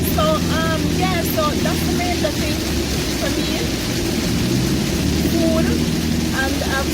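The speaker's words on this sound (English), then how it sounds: "now it's pouring rain" Heavy rain pours in a constant loud, broad hiss, with voices talking faintly underneath.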